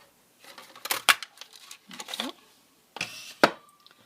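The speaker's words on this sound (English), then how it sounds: "we're going to use the 2-inch circle punch and cut this out" A 2-inch circle punch cutting out paper for a Stampin' Up! scrapbook page, a few close, sharp clicks and crunches of paper with rustling between them.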